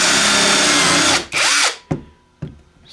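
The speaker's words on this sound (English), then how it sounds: "It's also very effective for using countersink bits." A cordless 18V brushless drill bores countersink holes, running loudly in a sustained whine for about a second, then a short second burst, followed by two brief spin-ups.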